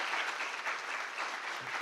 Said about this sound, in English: Can I just ask for another round of applause for all of our afternoon speakers